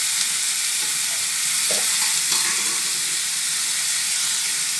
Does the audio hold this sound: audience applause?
no